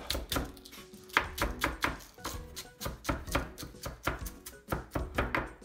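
A kitchen knife chops topping ingredients for udon on a cutting board, a quick, even run of crisp, close knocks that goes on steadily with no talking.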